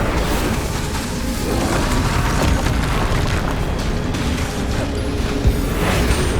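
Incendio fire spell is cast in Hogwarts Legacy amid dense, continuous combat noise: a roaring, crackling wash with muffled booms and impacts throughout and no clear gaps.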